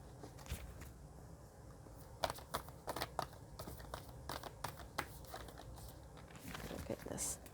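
Tarot cards shuffled by hand in a series of crisp, irregular riffling and slapping bursts, close and fairly quiet, with a soft voice talking over parts of it.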